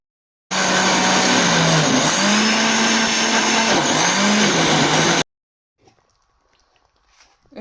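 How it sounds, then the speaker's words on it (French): A kitchen blender purées aubergines, tomatoes and onions with a loud, steady whirring motor that dips briefly in pitch as it works, running for about five seconds then stopping abruptly, followed by faint clatter. "C'est pour ça que j'écrase au mixeur."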